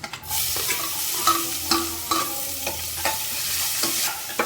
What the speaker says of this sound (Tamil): நல்லா வதங்கணும் வெங்காயம்